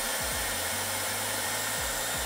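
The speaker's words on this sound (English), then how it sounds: "as you can see, 1300 watt hairdryer, and it's not even a treble hairdryer, and it's working really well" A 1300-watt Dyson hair dryer runs at full power from a portable solar generator, giving a steady, loud broadband whoosh throughout with a low hum beneath it.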